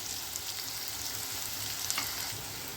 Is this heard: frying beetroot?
yes